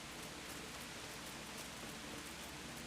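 Rain falling in Kingdom Come: Deliverance, a dense, even hiss of steady rainfall with faint patter throughout, continuous and quiet, with no voices.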